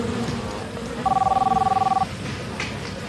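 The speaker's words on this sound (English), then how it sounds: "Chris's girlfriend, Audra Baumgartner, happened to call him on a cell phone" A cell phone rings once in a short electronic warbling burst lasting about a second, loud and close, amid a noisy scene with background voices.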